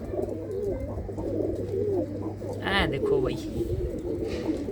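A flock of chap breed pigeons keeps up a soft, continuous cooing nearby while someone speaks over it, and a brief higher call cuts in partway through.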